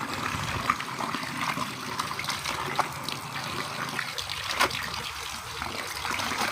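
Laundry is rinsed by hand in a basin, water sloshing, trickling and splashing steadily up close with a few louder splashes as cloth is moved.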